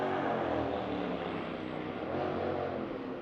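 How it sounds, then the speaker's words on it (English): Loud motorcycle crossing a bridge nearby, a steady broadband engine roar that swells and holds across the whole moment with no talk. "That's a motorcycle."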